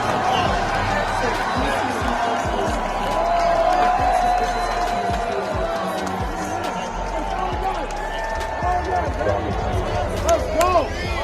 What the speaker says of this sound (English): that's more applause than he got at his farewell tour